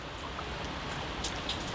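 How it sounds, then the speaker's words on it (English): Rain falls steadily outdoors as a storm brews, a dense even hiss with a few sharper drops standing out. "It's raining now, so I gotta go inside."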